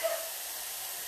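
A steady, bright hiss of vegetables sizzling as they sauté in a hot pan, continuous and fairly close, with no talking.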